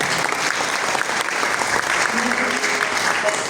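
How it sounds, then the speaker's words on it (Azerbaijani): Guests clap continuously at a celebration marking a 65th birthday and 50 years of teaching, a dense, steady round of applause filling the room. "Bir də alqışlayaq."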